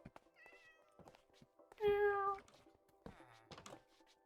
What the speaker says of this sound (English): So many cats.